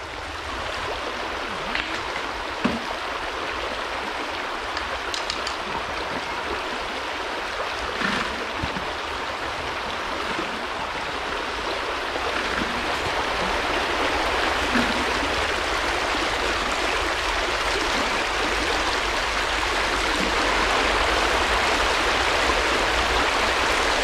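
Stream water pours steadily through a gold panning sluice in Scotland, a dense, continuous rushing flow with no break, close and fairly loud.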